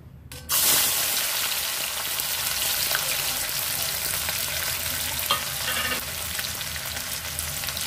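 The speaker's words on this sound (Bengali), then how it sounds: "প্রথমে আমি কড়াইতে পরিমাণ মতো তেল দিয়ে দিলাম" Oil hits a hot kadai at the start of a masala chicken recipe, bursting into a loud, close, continuous sizzle with occasional crackles that holds steady, without speech.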